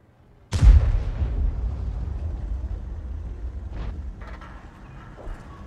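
A single loud, booming artillery shot from a Conqueror Gun Carriage tank in a video game, a sharp blast followed by a long rumbling decay and faint mechanical clanks.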